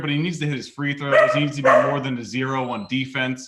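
A pet dog, restless in its cage, barks and whimpers close by in a home studio, loud bursts layered over steady male speech during a basketball talk show.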